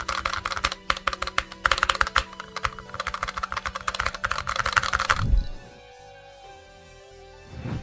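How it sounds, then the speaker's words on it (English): KLV2 low-profile switches on a Haute42 M16 all-button controller click in quick, uneven bursts of sharp taps for about five seconds, then fall silent with only faint room tone. "this Haute42 line utilizes KLV2 low-profile switches. And this is what they sound like."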